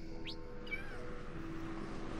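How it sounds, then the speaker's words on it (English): A cat in Minecraft gives a short rising meow, then a second, longer drawn-out mew, both fairly close and clear over a quiet steady background with no talking. "God, cat, shut up."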